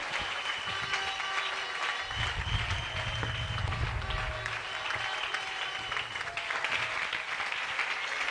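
A church congregation claps and cheers at a Sunday worship service, dense continuous applause with crowd noise filling the space throughout.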